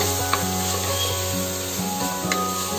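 Green chillies frying in a pan for a Tamil home-style curry leaves rice, giving a steady close sizzle with faint stirring scrapes and a soft background hum.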